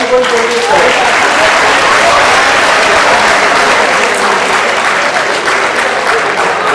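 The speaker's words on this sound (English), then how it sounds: "a big clap for this girl" An audience at a university foundation course in Vadodara applauds a student with dense, sustained clapping that fills the whole stretch, with a few voices mixed into the crowd noise.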